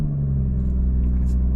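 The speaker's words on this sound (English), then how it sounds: "start the car" BMW M240i engine starting and settling into a deep steady idle, a loud close low rumble with a strong humming tone held throughout.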